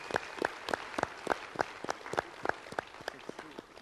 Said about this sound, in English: Big round of applause for the contestants